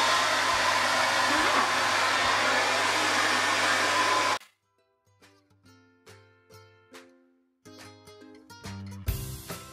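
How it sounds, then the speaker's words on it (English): A hair dryer blasts loudly and steadily at long hair for crown volume for about four seconds, then cuts off abruptly, leaving a gentle sequence of soft musical notes. "Then I am just going to take a hairdryer and blast."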